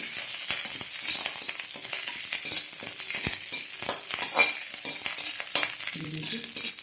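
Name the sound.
roasting namkeen mix in a hot kadhai until crunchy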